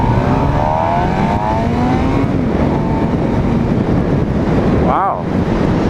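A 2013 Suzuki GSX-R 600 sport bike being ridden, its engine revving up through rising pitch sweeps under heavy wind buffeting, with a quick sharp rev near the end; a rider talks over it.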